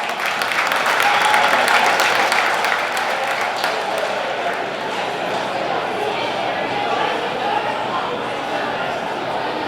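Guests at a speedway awards banquet in a stockyards hall give sustained applause, a thick, even roar of clapping lasting nearly ten seconds with voices and cheers blended underneath.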